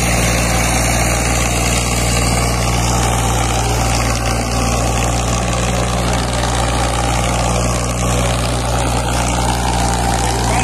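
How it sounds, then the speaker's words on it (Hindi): A Powertrac 50 tractor engine runs with no driver aboard on farm soil, giving a loud, steady low drone with a constant hum throughout and no voices. "बिना ड्राइवर के चल रहा ट्रैक्टर देख सकते हैं"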